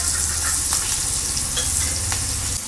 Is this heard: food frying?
yes